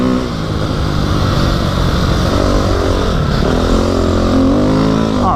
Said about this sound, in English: I have the most fun on the dirt bike as far as vlogging goes.